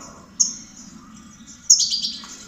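Goldfinches and canaries chirp while bathing, two bright bursts of song standing out over a steady low rumble of water and background noise.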